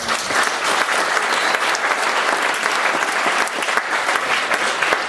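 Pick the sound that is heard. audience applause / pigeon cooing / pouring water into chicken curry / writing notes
audience applause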